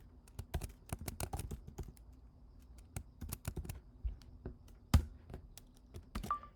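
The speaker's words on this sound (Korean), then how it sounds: "여기서 print hello라는 코드를 입력해 보겠습니다." Someone types a short line of Python code on a computer keyboard, with quiet, close key clicks coming in quick irregular bursts and pauses, and one sharper keystroke near the end.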